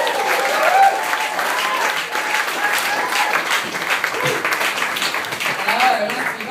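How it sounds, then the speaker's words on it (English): A comedy club audience gives steady applause and some cheering to welcome comedian Katie Lane onto the stage, dense clapping sustained throughout with a voice audible over it. "So can we get a huge round of applause going"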